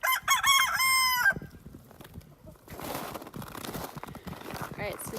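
Backyard chickens in a coop yard in snowy winter: a loud rooster crow opens, then softer clucking and scratching continue beneath a person's talking.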